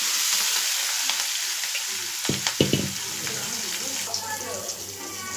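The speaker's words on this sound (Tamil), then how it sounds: "இப்போ அதை தாளிச்சிக்கலாம்." Oil sizzling steadily as spinach is tempered with curry leaves, dried chillies and fried vadagam, a loud continuous frying hiss with a few clinks from stirring partway through and a voice talking over it.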